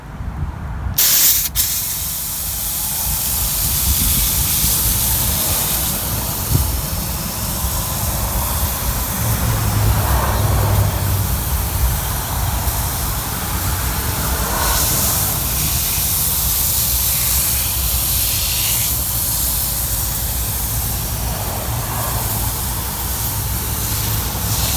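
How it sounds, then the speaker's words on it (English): A loud, continuous Driver's Choice foam tire shine aerosol spray hisses steadily for a long stretch, close up from 4 to 6 inches, with only slight shifts in pressure and no talking. "I don't really like the spray action as much with the Driver's Choice here."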